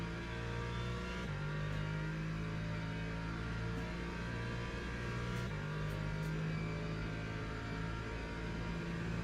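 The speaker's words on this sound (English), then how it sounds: "We have our first hypercars out onto the track here at Fuji with 20 minutes left of qualifying" Hypercar race cars on the track at Fuji during qualifying, a loud continuous engine drone with steady tonal revving and shifts in pitch, no voices.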